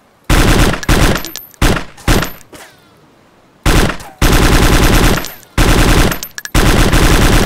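Automatic gunfire in the survival video game DayZ, loud rapid bursts of shots in several long strings separated by brief pauses, close and dominant with no talk over it.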